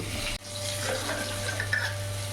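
Potatoes frying in oil are stirred in a pan, giving a brief, close, steady sizzle with soft scraping and a low electrical hum underneath.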